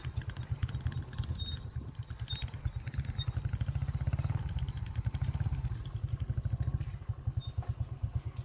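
A little dirt bike ridden through rural Kwale, Kenya, its small engine putting out a steady, fast-pulsing drone close by for the whole stretch, with faint chirping birds or squeaks above it.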